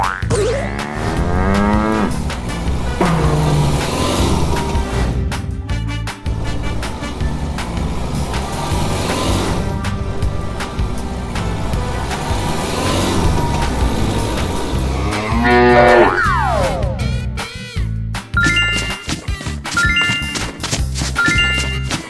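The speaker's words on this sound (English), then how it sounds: "cow" A cow moos several times amid busy cartoon-style music and playful sound effects, loud and up front.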